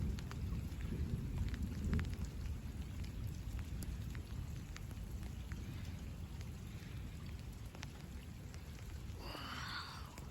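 Steady rain pours during a thunderstorm, a dense continuous hiss with occasional sharper drops and a brief rumble near the end, no voices.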